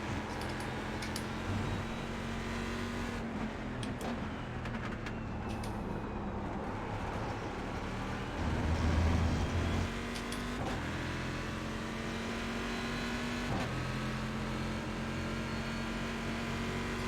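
Corvette GT1 race car engine droning steadily at a relaxed cruising pace around Road America in a sim racing game, a continuous low hum with slight shifts in pitch and a brief swell midway.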